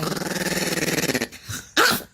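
Eddie the dog lets out a low, rhythmic, pulsing growl up close, then breaks off, and after a short pause gives a sharp yip or bark.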